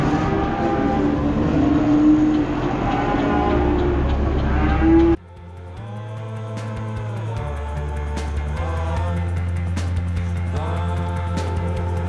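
Farm cattle mooing at feeding and bedding time, one long low moo filling the first five seconds, then after a cut a second series of deep lowing calls from other animals, loud and close with no talk.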